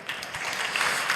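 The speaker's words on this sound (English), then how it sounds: "a round of applause to our panelists" Brief burst of audience applause for panelists at a tech conference stage, a short, fairly soft wash of clapping.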